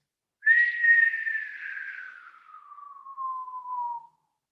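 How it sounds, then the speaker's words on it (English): An exhaled whistle during a Kundalini yoga breathing exercise for anxiety: one long breathy whistled tone, loud at first, then gliding slowly lower and fading over about three and a half seconds, heard alone. "exhale as a whistle"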